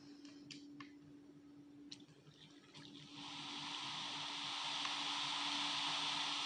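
Water in a Minecraft game on a multiplayer server: a few faint clicks at first, then a steady, soft rush of flowing water swells in and continues to the end, with no talking.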